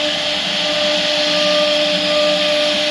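CNC machine carving Hindu god figures into teak wood, a steady loud motor whine with a constant pitched tone, running alone without pause throughout.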